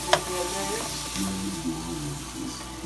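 Steak browning in a hot pan, a continuous close sizzle and crackle of frying meat with faint voices and kitchen noise around it.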